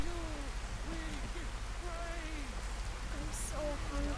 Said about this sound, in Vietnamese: trời mưa kinh thế